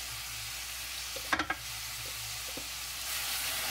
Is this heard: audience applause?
no